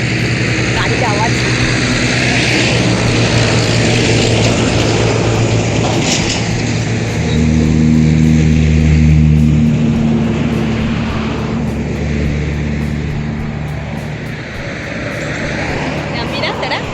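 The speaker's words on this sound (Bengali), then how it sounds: "গাড়ির আওয়াজ" Inside a car on a night drive from Darjeeling toward Kolkata, just past Bagdogra near Siliguri: a steady, loud engine and road rumble that swells briefly midway, with no break.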